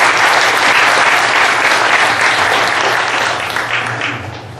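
Large gathering at a university Buddhist service applauding the university president, a loud, dense, steady wave of clapping that gradually fades toward the end.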